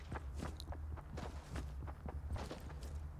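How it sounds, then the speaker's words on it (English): Footsteps of players walking in the battle royale game Fortnite, a steady run of soft, quiet steps continuing throughout with no talk. "I hear people walking outside."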